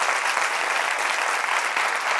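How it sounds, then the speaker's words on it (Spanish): An audience at a live talk show applauds, steady close clapping filling about two seconds without speech. "Fuerte el aplauso, espero que lo hayan disfrutado."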